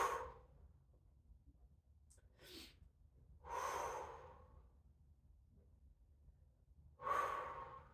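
Forceful breathing exhales as if blowing out a candle, three strong breathy puffs spread over several seconds with quieter breaths between, close and alone.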